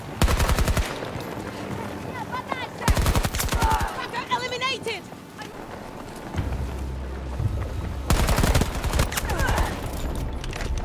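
PP-29 submachine gun firing in Battlefield 2042: loud, close full-auto bursts of rapid shots come in several separate strings, with quieter battlefield noise and footsteps in the gaps between them.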